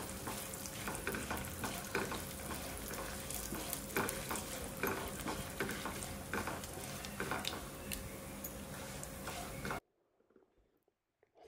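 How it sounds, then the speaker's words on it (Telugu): Peanuts frying in a pan until brown give a dense, steady sizzle with the rhythmic scrape of stirring, close and continuous, then cut off abruptly into near silence. "పల్లీలు కూడా కొంచెం మంచిగా బ్రౌన్ కలర్ వచ్చేంత వరకు ఫ్రై చేయాలి."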